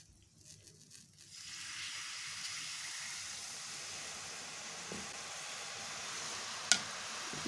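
Sugar syrup poured into roasted gram flour in a pan for besan halwa gives a steady sizzling hiss that builds after a quiet start, with a sharp click near the end.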